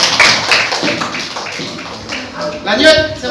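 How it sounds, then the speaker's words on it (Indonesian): Applause in a classroom after a group presentation: a short stretch of scattered claps and taps, moderately loud, with voices talking over and around it. "Tepuk tangan."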